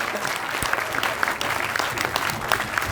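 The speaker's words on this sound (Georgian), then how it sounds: "Ძლიერი აპლოდისმენტები გოგონებს, როგორ ლამაზად შეასრულეთ ყველაფერი." An audience applauds a group of girls after their singing performance, steady close clapping from many hands throughout, fairly full and continuous with slight crowd murmur.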